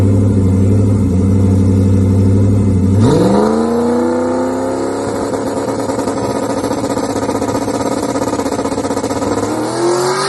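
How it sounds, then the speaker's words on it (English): A boosted drag race car holds a loud, steady launch rev, then surges off the line as its engine note climbs sharply. It keeps roaring hard and near to the end. "struck the tire just a smidge off the line, you know, just a little bit too much launch RPM, a little bit too much boost"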